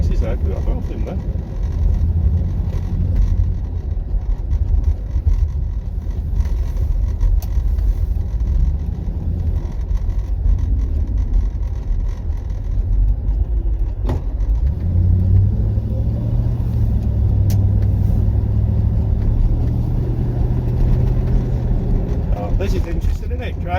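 A Rover car drives slowly around Buxton hunting for a parking space, with a steady low engine rumble from inside the cabin that swells at times with acceleration and continues throughout.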